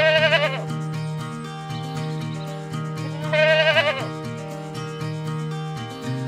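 Kaligesing PE goats bleat twice, loud wavering calls a few seconds apart, over steady background music on a goat farm.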